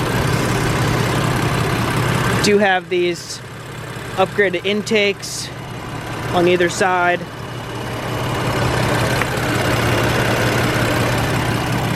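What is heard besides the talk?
tuned BMW F80 M3 engine with upgraded intakes running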